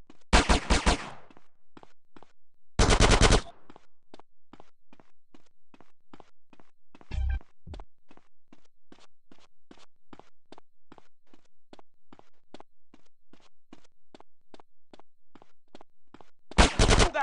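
Gunfire in GTA San Andreas during a casino robbery, a steady stream of evenly spaced single shots over many seconds, broken by a few louder bursts.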